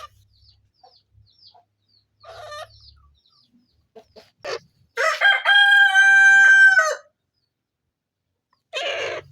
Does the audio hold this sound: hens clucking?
yes